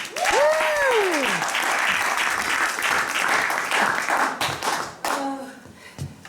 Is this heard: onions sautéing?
no